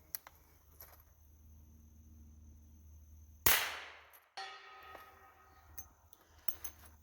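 A suppressed Henry .357 single-shot rifle fires once at a steel target, a sharp, loud crack with a short ringing decay, followed by a fainter metallic clank and a few small clicks.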